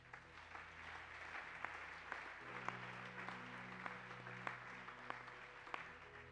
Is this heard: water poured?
no